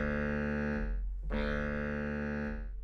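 A sampled bass saxophone from the Chronicles Brass and Wood library plays sustained, buzzy low notes with reverb, one held tone breaking briefly before the next begins.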